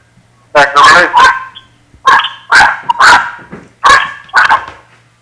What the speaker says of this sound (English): I think your dog want to join the show too.